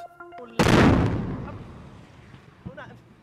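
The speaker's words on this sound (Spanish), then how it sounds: "esta fue la primera de las dos explosiones que tuvieron lugar esta mañana en un aeropuerto en Yemen" A sudden heavy blast at an airport in Yemen, a loud booming explosion with a long rumbling decay, preceded by brief tonal sounds and followed by a faint voice near the end.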